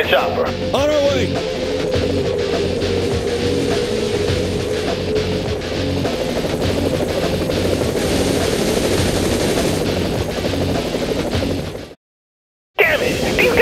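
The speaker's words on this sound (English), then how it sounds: "Get in the chopper." A helicopter in the video game Saints Row: The Third roars steadily with whooshing rotor noise, overlaid by gunfire bursts, before a brief dropout of silence near the end.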